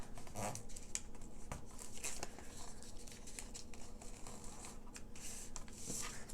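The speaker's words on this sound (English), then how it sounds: "Fold back and forth." Thick patterned paper being folded back and forth along a scored line for a Christmas junk journal, giving soft, continuous papery crinkling and rustling close by with a few sharper crackles, and no talking.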